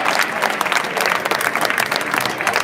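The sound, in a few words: crowd applauding a player substitution at football match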